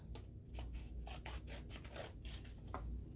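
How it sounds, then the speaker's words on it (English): Scissors cut through a paper plate in a quiet room, giving a series of short crisp snips and rustles at a steady, unhurried pace, close up and soft. "we're gonna cut out 2 triangles for our ears"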